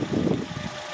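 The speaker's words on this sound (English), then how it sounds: "she's equipped with the M102 straight 4, a 2-liter carburetor engine." A 1985 Mercedes-Benz W123 200T with a 2-liter M102 straight-four carburetor engine, about 187,000 km, idling with a low, steady rumble, close and fairly quiet for about a second.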